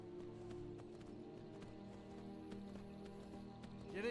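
A horse gallops at a steady pace, ridden through Skyrim. Rhythmic hoofbeats hold close and even over a continuous game music and ambience bed for the whole stretch.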